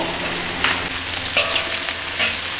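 Spices, ginger and scallion stir-fried in a wok, with a steady close sizzle and scattered scraping stirs, running alone without talk.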